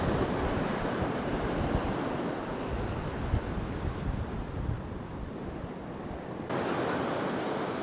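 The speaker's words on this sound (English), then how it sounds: "I would say those waves out there are probably 5-footers" Ocean surf crashes steadily in the surf line off South Beach, Marco Island, as waves around five feet roll in during Hurricane Idalia. A loud, continuous wash of breaking water is close by, with wind buffeting the microphone and no voices.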